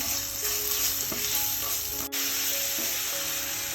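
Squid sizzles and crackles steadily in a hot pan, with occasional stirring scrapes and a brief dip partway through.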